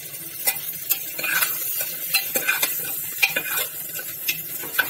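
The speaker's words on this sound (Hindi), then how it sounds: "We are going to put in crates now that ginger is also done. Mix it up nicely," Carrots and freshly cooked ginger are stirred in a pan for a vegetable soup: irregular soft scraping strokes of a spoon against the pan over a faint sizzle.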